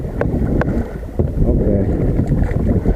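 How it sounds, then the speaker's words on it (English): Paddles pulling hard through river water beside a landslide, with steady wind and water wash throughout and a few sharp splashy strokes early on, close to the microphone. "So now we'll paddle hard"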